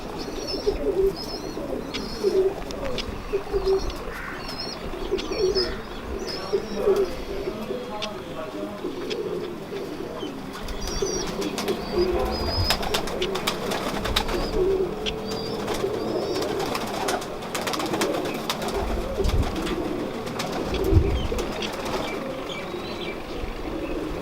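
Pigeons coo in low, repeated murmurs at a pigeon fancier's gathering in Lahore, with faint higher chirps and general background noise throughout.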